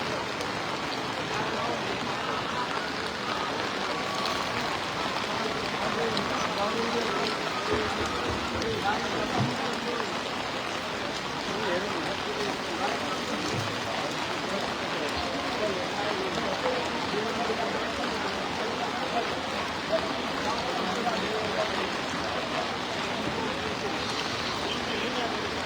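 Rain falls steadily on an open cattle market in Hazaribagh, a soft continuous hiss of drops on surfaces, faint and distant, with no clear voices.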